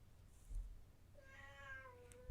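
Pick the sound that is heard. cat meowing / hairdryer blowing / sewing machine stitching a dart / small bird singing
cat meowing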